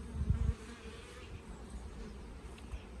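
Honey bees buzz faintly around hive boxes at an apiary, a low, steady drone that persists throughout, with a brief louder thump near the start.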